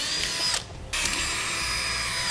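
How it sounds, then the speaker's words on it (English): A power drill whines steadily as it bores pilot holes into a 2013 Jeep Wrangler bumper, a continuous high motor tone with one brief pause partway through, close and loud with no talking. "I'll drill some pilot holes so our self-tapping screws go through easier"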